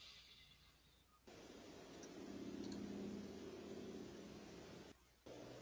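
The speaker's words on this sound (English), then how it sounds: "Most likely built up kind of a car or truck." A distant car or V8 truck passes faintly. Its soft, hissy rumble swells gently and then eases off against quiet outdoor background.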